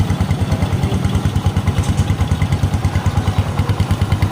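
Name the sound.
Bajaj CT125 motorcycle engine running after overhaul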